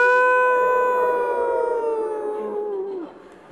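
People imitate a wolf howl together, a long sustained tonal wail that slowly falls in pitch and fades over a few seconds, voiced loudly and alone.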